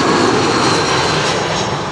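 Aircraft arriving on runway 27, a loud, continuous roar of jet engines close by, steady for the whole stretch with no voices.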